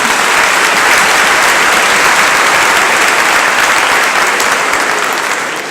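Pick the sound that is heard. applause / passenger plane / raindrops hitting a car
applause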